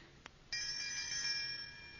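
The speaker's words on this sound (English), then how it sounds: "Now, this must be the doorbell." A faint click followed by a sustained electric bell ringing steadily for over a second, then stopping, heard alone in a quiet room.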